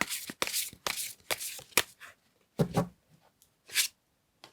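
Tarot cards are shuffled and set down in a run of close, crisp riffles and slaps, then a few sparse flicks and taps as cards are laid out, with no speech.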